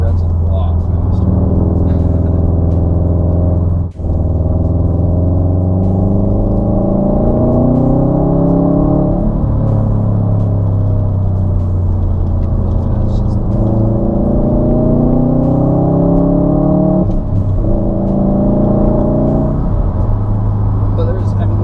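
Sports car engine, a 2017 Civic Si or 2015 WRX STI, revving loud and close from the cabin while driving, its pitch rising and dropping through repeated gear changes under speech.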